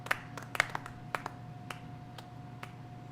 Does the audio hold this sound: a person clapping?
yes